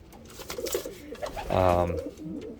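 A pigeon gives a low, throaty coo up close, with a person speaking softly before it.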